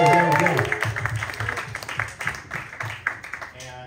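Audience applause for a guest joining a panel at a living-soil cannabis talk, with scattered claps fading in and out beneath voices that keep talking over it.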